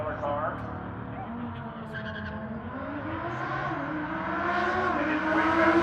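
A roughly $250,000 high-performance car drives past with engine roar and tires skidding, the engine note rising and growing louder toward the end; voices are faintly present beneath.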